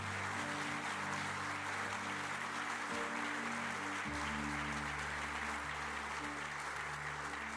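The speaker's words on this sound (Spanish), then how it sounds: "Dele un aplauso ahí al Señor." A church congregation applauds during a worship service, a dense, continuous clapping of many hands over a sustained organ or keyboard chord that shifts partway through.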